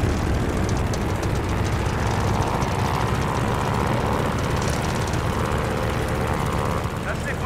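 A WWII carrier aircraft engine at the Battle of Midway runs up to full power for takeoff, a loud, steady, broadband roar that fills the whole clip with constant intensity and no breaks.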